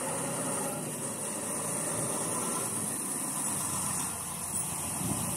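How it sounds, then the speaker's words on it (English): A tractor-trailer tractor pulls away from its dropped trailer, a steady diesel engine drone with broadband noise that holds constant throughout, with no speech. "The trailer is dropped. The tractor is pulled away."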